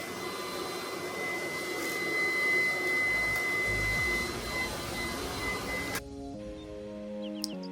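Vacuum cleaner with a telescopic handle runs loudly and steadily with a high whine, then cuts off abruptly near the end, leaving a brief quieter stretch with faint clicks.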